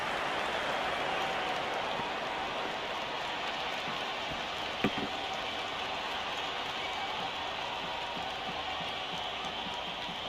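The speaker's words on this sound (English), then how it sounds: "It's almost palpable, the excitement emanating from this crowd at the moment." Stadium crowd in the Cricket 26 game, a broad steady roar of cheering that holds at an even, fairly faint level with one brief sharp knock midway.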